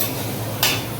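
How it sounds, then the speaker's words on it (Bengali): Onions fry for a chicken dish in a home kitchen, a steady close sizzle with one brief louder hiss of stirring partway through. "তো চিকেনের পেঁয়াজ ভাজা চলছে এখন"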